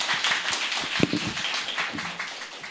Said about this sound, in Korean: 그래서 박수로 환영해 주십시오.